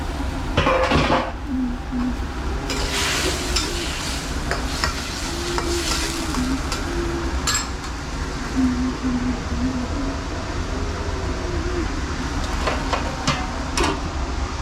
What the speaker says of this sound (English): I'm cooking some carrots